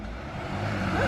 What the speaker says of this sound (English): Got the fire truck.